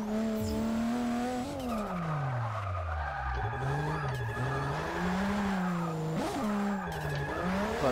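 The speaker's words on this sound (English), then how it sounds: "I do love the sound of that turbo" A turbocharged street-style drift car in Forza 6 slides with steady tire squeal over a sustained, shifting engine drone, with a turbo whine running throughout the whole stretch.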